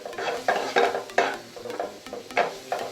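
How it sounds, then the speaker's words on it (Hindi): Sambar masala is stirred into a frying semolina and yogurt snack in a pan: rhythmic scraping stirs repeat roughly every half second over a faint sizzle, close and moderately quiet. "अब इसमें ऐड कर दूंगी मैं 1 चम्मच सांभर मसाला। इसे अच्छे से हम मिक्स कर लेंगे।"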